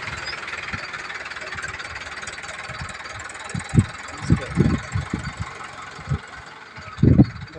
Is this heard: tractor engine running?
yes